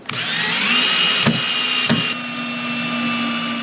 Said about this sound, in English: Let's zip some new screws in there